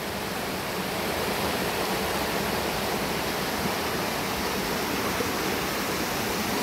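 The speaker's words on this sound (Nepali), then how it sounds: "यहाँ वाटर फाउन्टेन ठ्याक्कै यस्तै झर्छ" Water cascading from a fountain in Shram Sanskriti Park: a steady, dense rush of falling water that stays constant and fairly close throughout, with no voices.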